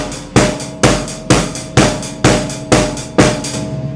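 A drum kit plays a steady beat, with quarter notes on snare and bass drum under eighth notes on the hi-hat: loud, close, evenly spaced hits repeating about twice per second with no voices.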